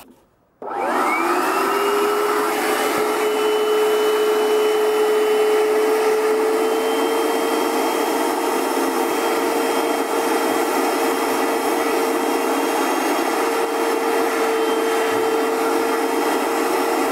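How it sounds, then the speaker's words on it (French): Carpet injector-extractor cleaning machine running inside a Mercedes ML430, switching on abruptly and then whining steadily and loudly at a constant pitch, close by, with no talk. "j'ai utilisé un nettoyant textile puis un injecteur extracteur"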